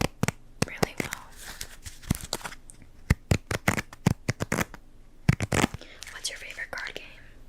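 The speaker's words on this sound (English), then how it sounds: "I feel like shuffling cards is a dying art form." A deck of playing cards is shuffled with rapid crisp riffling and bursts of flicking, close and intimate, mixed with soft whispered speech.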